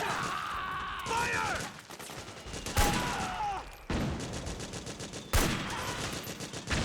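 Dense, rapid gunfire bursts in the video game Metal Gear Solid 4 rattle loudly in repeated volleys, punctuated by sharper blasts and game sound effects, with no talking over them.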